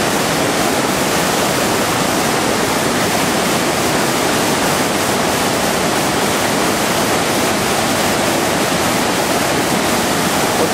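Hepoköngäs waterfall rapids in flood roar loud and steady, a dense unbroken wash of whitewater rushing close by with no pauses and no voices.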